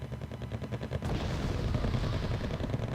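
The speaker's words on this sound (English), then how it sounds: "The LVKV firing on air" An anti-air vehicle in the Wargame Red Dragon strategy game fires in rapid rattling bursts, dense loud gunfire rolling continuously after an opening rhythmic clatter.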